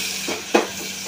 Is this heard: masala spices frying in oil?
yes